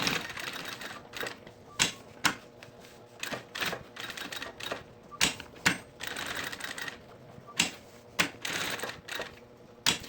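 A sewing machine backstitches a handbag strap in short, rapid bursts of stitching separated by brief pauses. The sound is close and clear, with no talking.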